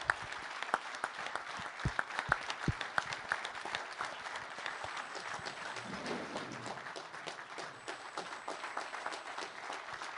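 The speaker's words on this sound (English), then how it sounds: "let all of us give you a warm round of applause" An audience at a Davos panel on Ukraine stands and gives a warm round of applause, steady dense clapping with a few sharper close claps near the start, continuing for about ten seconds without talk.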